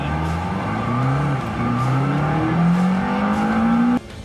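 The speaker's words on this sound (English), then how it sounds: "The acceleration is absolutely epic when it goes from 0 to 100 km an hour in less than 3 seconds." A supercar with a 3.8 litre twin-turbo V8 accelerates hard on a racing circuit, its loud engine note climbing steadily through the gears with brief dips at each shift, then cutting off abruptly.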